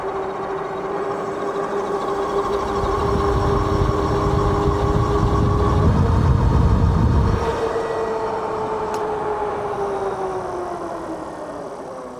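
A Cybervelo EK12 electric bike riding at top speed outdoors, giving a steady whirring hum with rushing wind and road rumble that swells loudest midway, then eases off.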